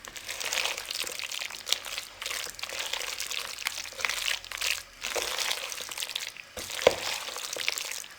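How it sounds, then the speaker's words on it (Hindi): Chopped vegetables for pakoras tossed with whole coriander seeds in a bowl, giving a close, continuous crunchy rustling with occasional brief knocks. "अब इसको हम अच्छे से मिक्स कर लेंगे।"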